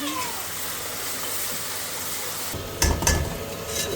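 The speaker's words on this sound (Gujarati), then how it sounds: "જો મસાલો હેકાવા આવ્યો છે હવે." Garam masala spices sizzle in hot oil in a pan for chickpeas, a steady close frying hiss that runs throughout, with a burst of louder crackle and stirring near the end.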